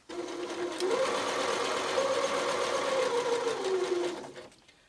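Domestic sewing machine stitching fabric for a small scissor holder, a steady close whirring run that starts quickly, holds for about four seconds with a slight pitch rise, then winds down and stops, with no talk.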